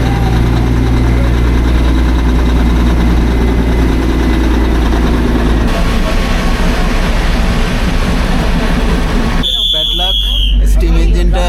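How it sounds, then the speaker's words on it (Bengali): A diesel engine hauls the Darjeeling toy train on a joyride, a steady low rumble and drone running throughout at constant loudness, with a brief higher mechanical whine near the end. "ডিজেলের জয় রাইড, ওই টয় ট্রেনেই আমরা যাচ্ছি"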